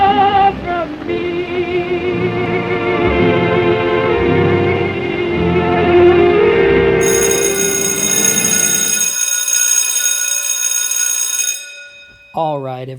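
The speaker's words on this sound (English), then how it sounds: "that's the sound of the bell." Electronic bell ringing to dismiss an online swing dance class, a sustained ringing tone lasting several seconds with layered tones, then a brief rising tone at the end.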